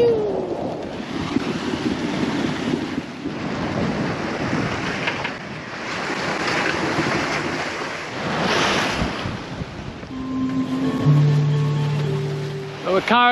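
Sailboat under way at sea near islands off the Queensland coast, with steady rushing waves and gusting wind buffeting the microphone throughout, the water noise swelling and easing; a faint voice and short tonal sounds come in near the end.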